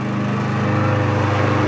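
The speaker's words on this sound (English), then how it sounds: "They both have their lawn mowers." A lawn mower runs steadily and loudly nearby on a residential lawn, its engine drone holding an even, continuous hum throughout with no pauses.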